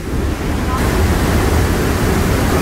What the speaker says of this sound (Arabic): هاي طبعا عدة شلالات صب في مكان واحد